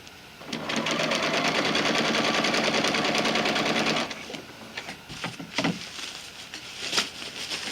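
A sewing machine stitches underquilt fabric with a fast, loud, continuous rattle for several seconds, then stops, leaving softer handling rustles and a few brief taps.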